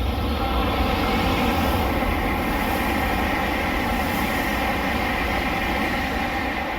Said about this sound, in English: just in time for another Shinkansen to rush by